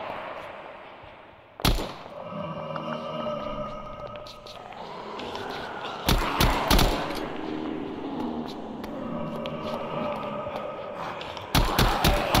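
Sharp bursts of gunfire in the Minecraft modpack Deceased Craft, a single shot then rapid clusters, over a continuous droning game soundtrack.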